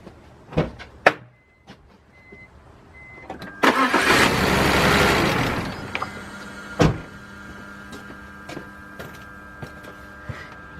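A BMW 328i with a rough-running misfire cranks and catches in a broad two-second burst, preceded by a few sharp clicks and clunks, then settles into a quieter uneven idle with occasional knocks nearby.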